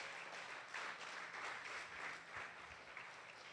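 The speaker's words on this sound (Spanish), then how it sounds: "Dele ese aplauso a Jesús el Señor." Steady applause from a church congregation during a Spanish-language sermon, a dense crowd of hands clapping continuously at moderate level for several seconds, with no voice over it.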